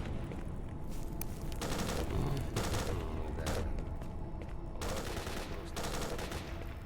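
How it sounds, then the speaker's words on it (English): Rapid bursts of distant gunfire crackle through a firefight in the S.T.A.L.K.E.R. Shadow of Chernobyl game world, with dense overlapping volleys sustained from start to finish. "He says as he hears tons of firing down the way."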